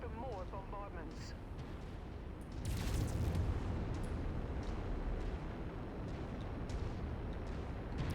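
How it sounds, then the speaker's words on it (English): Artillery bombardment in MechWarrior 5 produces a rumbling run of booming blasts and impacts that swells partway through and continues, while a radio-style voice talks over the barrage. "Destroy all remaining enemy artillery. There's still some artillery out there. Prepare for more bombardments."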